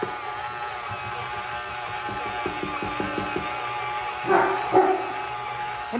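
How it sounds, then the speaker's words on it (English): A dog barks a couple of times, short yips and woofs near the end, heard indoors over a steady low hum in a kitchen during baking. "What you woofing at?"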